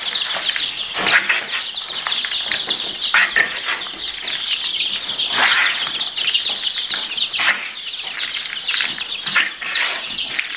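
Chickens in a heated brooder box on an organic vegetable farm cluck and squawk continuously at close range, with repeated bursts of wing flapping scattered throughout.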